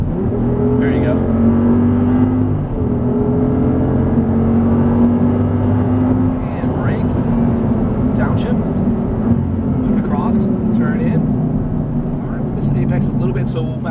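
Audi R8 V10 engine on the Auto Club Speedway track, a steady loud drone that holds high revs throughout while an instructor talks over it.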